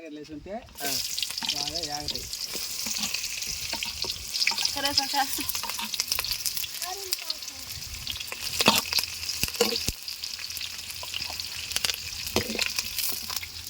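Mustard seeds sizzle and crackle in hot oil for a village-style malugu fish curry, a steady close frying hiss with stirring clatter and occasional pops, with a voice speaking at the start.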